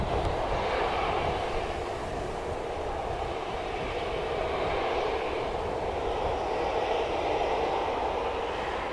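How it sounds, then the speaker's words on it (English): Steady low roar of jet airliner engines idling on the runway at Manchester Airport, heard at a distance, a continuous broadband rumble with no voices. "I can hear their engines fluxing."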